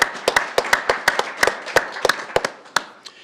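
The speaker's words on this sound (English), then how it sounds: "let's give her a round of applause." A small group at a city council meeting gives a round of applause, a sparse scatter of crisp, separate handclaps from a few people that thins out and fades after about three seconds.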